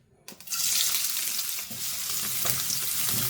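Garlic, ginger and green chilies frying in hot oil in a kadai, a loud steady sizzle that bursts in after a brief quiet start and keeps crackling, with faint stirring.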